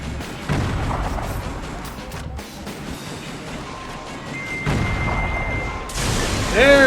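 Missile blasts and booming explosions from the action game Metal Wolf Chaos, a dense run of thuds and rumbling detonations that swells again near the end, with loud, continuous game noise throughout.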